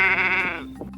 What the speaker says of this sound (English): The sheep says baa, baa.